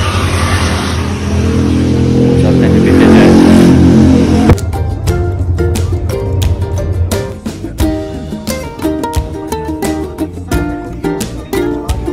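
A passenger car engine idles and revs at a roadside dhaba stop on a Shimla road trip, a steady loud drone for about four seconds that cuts to quieter clattering and rhythmic background noise.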